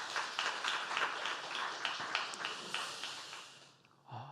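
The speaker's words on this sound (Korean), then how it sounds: "우리 친구들을 위해서 격려의 박수 한번 부탁드립니다" A church congregation at a Sunday afternoon worship service in Jinhae, Korea, breaks into a burst of steady hand-clapping for the youth group. The applause is moderately near and dense, then tapers off and stops near the end.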